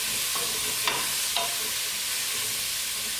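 Mirepoix vegetables sauté in a pot for hearty oxtail, giving a steady close sizzle and hiss with a couple of brief stirring clinks, no voices over it.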